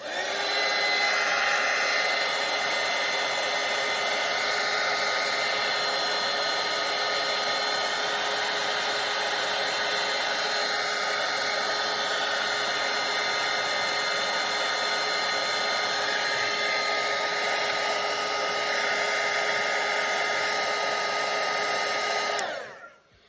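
A hair dryer dries a watercolor painting of an underwater turtle, running as a constant, loud whirring blow for over twenty seconds before it cuts off at the end, with no voices.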